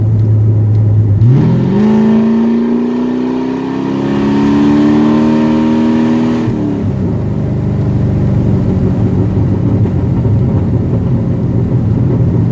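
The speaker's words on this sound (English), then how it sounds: "So I'm going to take overdrive off. There's on a straightaway and nobody around right now. So you hear the burbles." A car with overdrive switched off rises in revs along a straightaway, its exhaust note climbing in a smooth pull before dropping back into a low burbling drone, close and loud with no talk.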